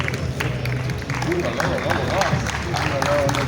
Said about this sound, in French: Sous vos applaudissements, s'il vous plaît, sur le podium du carrousel de la mode, le designer Franca du Congo-Brazzaville.